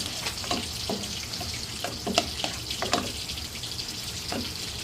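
Two fish frying in a pan as fish sauce is added, a steady soft sizzle with scattered crackles and pops, fairly quiet and close, with no talking.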